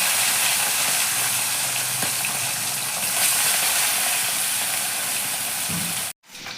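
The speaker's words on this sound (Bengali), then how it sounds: "এবার মাছগুলোকে আমি ভালো করে ভেজে নেব।" Bata fish frying in hot oil in a kadai for a kalo jire jhol, a steady dense sizzle holding for about six seconds before cutting out abruptly near the end.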